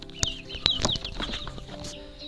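Young chicks in a brooder after feeding, cheeping and clucking in a busy cluster of short, sharp, high calls close by, with a few louder peeps standing out.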